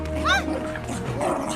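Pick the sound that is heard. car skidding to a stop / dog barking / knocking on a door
dog barking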